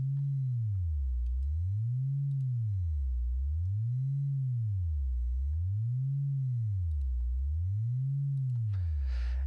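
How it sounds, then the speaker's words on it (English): A pure sine tone warbles slowly up and down around a 100 Hz loudspeaker crossover frequency, rising and falling about every two seconds in a smooth repeating sweep. It is steady and alone, with a faint brief noise at the very end. "this is a sine wave that is being swept around the crossover frequency"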